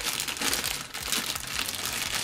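Paper crinkling and crumpling steadily as it is handled up close, a dense continuous rustle with small crackling bursts throughout.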